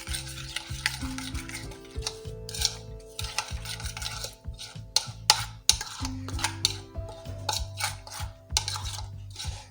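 Spices, salt, chilli, garlic and ginger paste being stirred and mixed in a bowl, with steady scraping, clinking and wet mashing sounds close up, overlaid by continuous background music.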